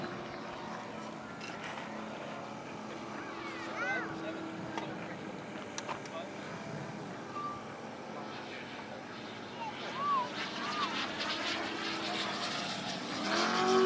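An RC scale P-47 Razorback warplane model from Composite ARF, flying with a scale propeller at a jet rally, drones past overhead in a steady engine hum that rises and falls. People talk over it, and the sound swells near the end.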